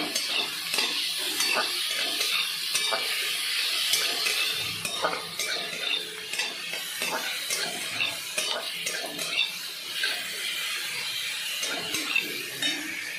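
Eggplant pieces frying in a pan with salt, turmeric, Kashmiri chilli and green chillies, a bright steady sizzle broken by scraping stirs and utensil clicks against the pan, close and loud with no talk.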